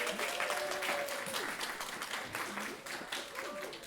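An audience gives sustained applause for a performer at an arts internship final celebration, with dense clapping near and loud and faint voices or tonal sounds running underneath.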